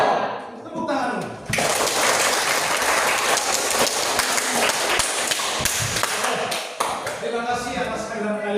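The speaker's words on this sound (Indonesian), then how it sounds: "Tepuk tangan dulu" Classroom group claps for a named student during a lesson, a burst of dense clapping starting after a voice and running for several seconds before other voices return.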